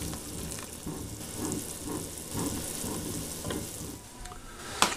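Miso broth for an immune booster soup comes up to a boil in a pot, giving a steady close bubbling and sizzling wash with small pops and a sharp splash near the end, no voices.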